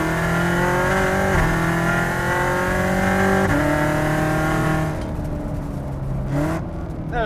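A 650 hp Corvette Z06 accelerating hard, its engine rising in pitch in loud stepped surges through several gear changes, then easing off and revving briefly near the end, close and strong.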